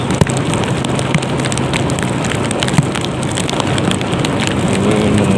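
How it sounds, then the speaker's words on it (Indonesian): Steady, dense rain hiss fills the clip, a continuous downpour with scattered drop ticks, no voices. "Hujan tidak reda-reda karena mendung ya."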